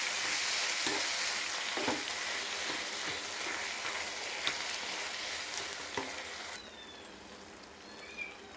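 Vegetables for a thoran of long beans and raw plantain, with chilli powder, sauté in a hot pan, giving a steady, fairly loud sizzle with occasional stirring scrapes, alone without voices.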